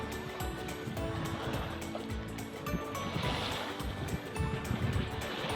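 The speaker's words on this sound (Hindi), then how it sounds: "ये आई थिंक के पानी की आवाज़ भी आप सुन सकेंगे।" Steady, rushing flow of water in green Kashmir mountains near a waterfall under light drizzle, a continuous broadband wash with no pauses and no talking.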